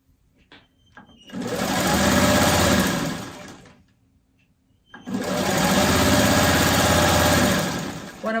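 A sewing machine stitches quilt pieces together in two loud, steady bursts of rapid whirring and needle clatter, each lasting a few seconds, separated by a short quiet pause with faint handling noises.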